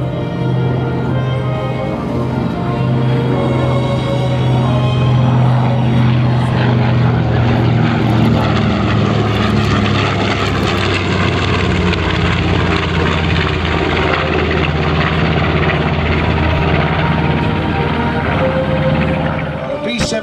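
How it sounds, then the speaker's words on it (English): A Boeing B-17 bomber flies overhead at an air show, its propeller engines making a loud, steady droning roar that holds for about twenty seconds. "B-17 bomber,"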